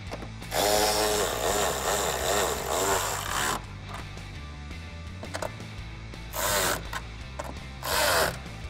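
A power tool drives the factory 10mm hardware on a Mustang tail light, with one long whirring run followed by two short bursts and quieter handling noise in between.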